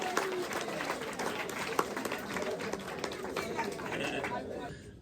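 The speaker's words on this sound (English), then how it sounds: "Give Christopher a round of applause. Give it up for him" Audience applause after a magic trick at a post-prom magic show, a crowd clapping steadily over a bed of chatter and voices, fading near the end.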